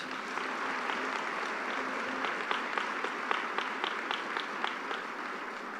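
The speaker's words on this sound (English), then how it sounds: "Please, let's give another round of applause for that special message." A commencement crowd breaks into sustained applause, a dense, even wash of many hands clapping at moderate distance, with a few sharper claps standing out toward the end.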